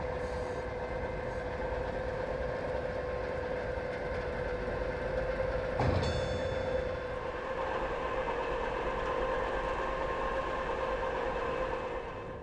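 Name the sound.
Ludmilla class 132 diesel locomotive pulling into station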